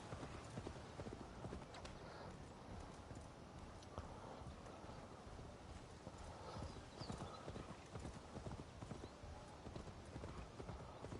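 Steady, rhythmic horse hoofbeats in a video game clop along continuously over ground, close and evenly paced, with faint horse snorts mixed in.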